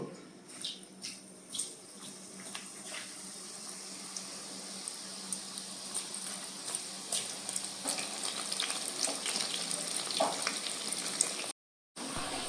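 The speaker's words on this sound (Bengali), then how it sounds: "তেল গরম হয়ে গেছে, এবার ভেজে নেব" Marinated soya chunks deep-frying in hot oil, a steady, fairly quiet crackling sizzle with scattered pops and occasional clinks, heard close with no talking.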